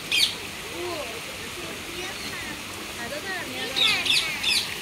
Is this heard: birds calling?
yes